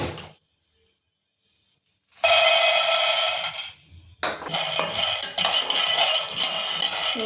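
Peanuts dry-roasting in a pan on a stovetop for thambittu, giving bursts of loud scraping and rattling of nuts against the metal pan, separated by short pauses, with no voices.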